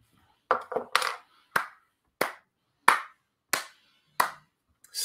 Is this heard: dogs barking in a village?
no